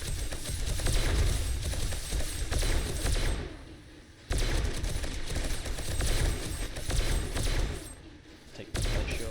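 Rapid, loud sniper rifle fire from the video game 7 Days to Die, dense bursts of shots in several runs broken by short pauses, with a voice talking at times.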